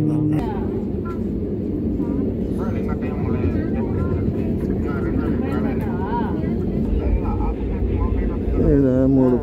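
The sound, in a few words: small jet airplane at airport runway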